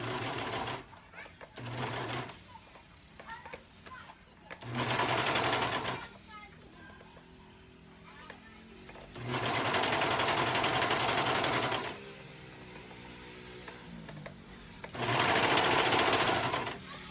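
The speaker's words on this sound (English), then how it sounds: "Now we will pin the other side," Sewing machine stitching a bodice in bursts of several seconds, with quiet pauses and spoken voices in between.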